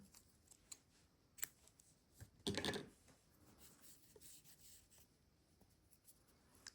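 Scissors cut yarn while an amigurumi doll dress is crocheted, giving a single short crisp snip among light rustling and handling noises, close and quiet with no talk.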